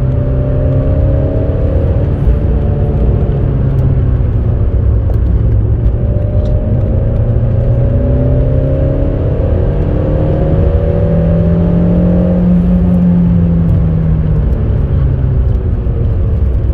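Interior engine drone of a Peugeot 405 T16 on the move, a loud, continuous low hum whose pitch rises and falls gently as the car accelerates and eases off, with no speech.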